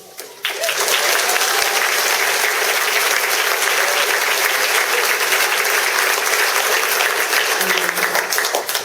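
Sustained audience applause at a school board meeting honoring military staff and families, a dense, steady clatter of clapping that starts abruptly and fills the room for several seconds.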